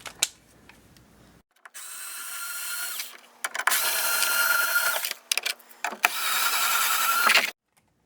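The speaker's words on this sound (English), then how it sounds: "So I'm going to go ahead and undo those 3 bolts right now" Bolts undone on the steering mechanism of a Sega Outrun arcade cabinet, heard as loud, near bursts of a whirring power driver that start and stop several times, then fall silent.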